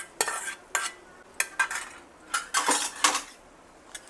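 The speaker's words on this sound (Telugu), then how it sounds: "చక్కగా కలిపేసుకుంటే మన పులిహోర రెడీ అయిపోయింది." Tempering being mixed by hand into tamarind rice for pulihora, heard as a series of short, distinct clinks and rustling scrapes against a vessel, close and fairly loud with brief pauses between.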